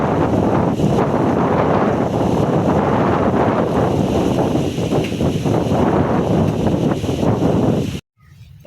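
Strong wind buffeting the microphone in continuous roaring gusts, loud and close, cutting off abruptly near the end.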